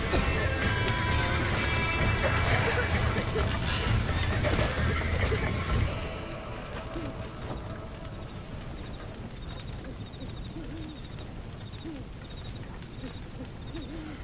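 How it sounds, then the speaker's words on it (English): Horses whinny and neigh loudly while hooves clatter in a rapid clip-clop in a Red Dead Redemption ranch scene, a dense, busy mix that drops to a quieter, more distant level partway through. "Now get the horses out!"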